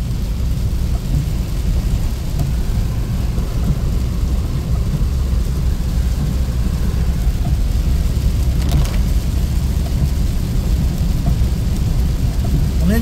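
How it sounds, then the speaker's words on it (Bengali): Heavy, unceasing rain pours down in a steady, dense roar that stays loud and even throughout, with a low rumble underneath and no voices. "অনেক বৃষ্টি"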